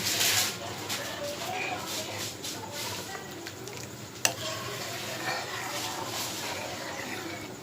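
Milk simmering in a pot with bay leaf and cardamom, a soft, steady bubbling hiss with stirring scrapes and a single sharp clink, continuous and fairly close throughout.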